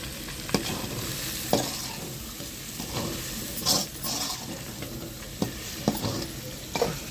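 Onion-peel chicken fry being stirred in a pan: a steady sizzle broken by several sharp scrapes and knocks of the spoon, close and fairly loud, with no talking.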